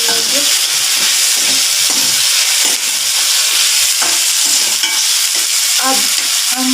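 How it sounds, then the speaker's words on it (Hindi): Ginger garlic paste is stirred into a hot pan, giving a continuous frying sizzle and hiss with intermittent scraping stir strokes, close and steady, with no talking. "और 1 चम्मच अदरक लहसुन का पेस्ट अच्छी तरह मिक्स कर लेंगे।"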